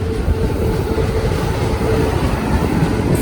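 The Saryu Yamuna Express pulling into Ballia railway station, a loud close rumble of rolling wagons with a continuous rhythmic rattle of wheels over the track.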